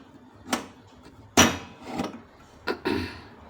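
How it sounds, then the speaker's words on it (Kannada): A pressure cooker lid being fitted and closed over boti biryani, heard as several sharp metallic knocks and clanks spaced across a few seconds, close and fairly loud, with no talk. "ಕುಕ್ಕರ್ ಮುಚ್ಬೋದು."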